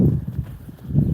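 Donkeys walking out of their enclosure, hooves clip-clopping in a short run of soft, close, dull thuds with no talk.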